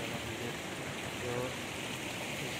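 Cold fresh spring water flows from an open source at a Hindu temple in Dailekh, Nepal: a steady, full hiss of running water, close and continuous with no pauses.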